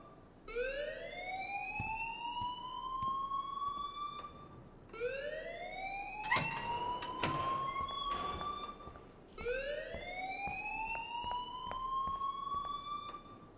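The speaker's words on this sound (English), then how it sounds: "please turn off that alarm since that's your job" A repeating electronic alarm in the video game Life Is Strange, three rising, siren-like wails with a short gap between each, moderately loud, with brief clatters and a faint high whine during the middle cycle.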